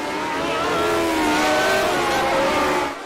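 A Ligier race car engine in the iRacing sim at Monza, a loud sustained high-revving whine with rising and falling pitch as gears shift, holding steady before easing off at the end, with no talking.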